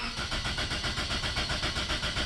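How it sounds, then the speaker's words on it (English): Engine of a 2004 Toyota Corolla cranking without catching: a fast, even, rhythmic starter churn that repeats steadily throughout, loud and close, with no firing and no voices. "it just crank and nothing"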